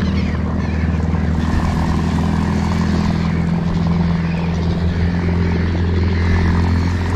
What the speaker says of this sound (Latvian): Kā benzīnieks skan.